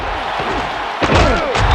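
A football player is tackled in the NFL 2K3 video game, a heavy thudding impact and pile of bodies hitting the turf, with sharp slams after a quieter stretch of game ambience.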